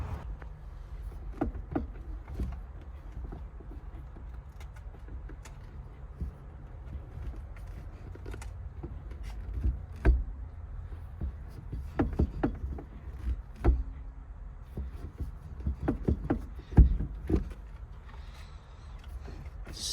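A gear shifter on a Mk1 Volkswagen Caddy with an ABA engine swap is worked through the gears after new rods, bushings and heavy grease were fitted, producing a series of scattered mechanical clunks and clicks over a low, steady background rumble.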